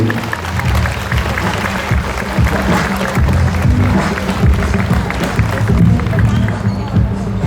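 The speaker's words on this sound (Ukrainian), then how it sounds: "Оплески нашому воїну Віктору Олександровичу Ратусу." A crowd gathered for a school's first-bell ceremony in Ternopil, Ukraine, applauds a soldier with sustained, dense clapping and a background murmur of voices throughout.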